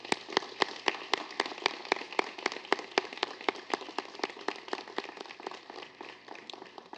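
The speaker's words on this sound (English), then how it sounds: "please join me in a round of applause to recognize our 2018 School Board of Directors" Sparse, steady clapping from a small audience at a school board meeting, individual claps distinct and fairly quiet throughout.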